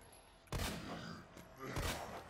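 Gunshots ring out in the Resident Evil 2 video game, two or three sharp broadband blasts with a short reverberant tail, fairly loud against a low game background.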